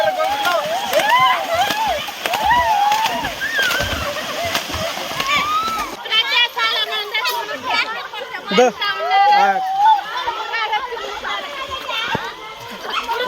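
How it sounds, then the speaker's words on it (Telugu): Water splashing and sloshing at a waterfall, continuous and close, with children shouting and people chattering loudly over it throughout. "వాటర్ ఫాల్స్ రావాల్సింది"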